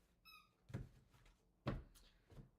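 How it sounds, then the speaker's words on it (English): A dog's squeak toy gives one short, high, quiet squeal, followed by a couple of duller thumps and knocks nearby. "that's my dog with her squeak toy if you hear her"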